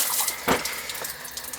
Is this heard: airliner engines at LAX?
no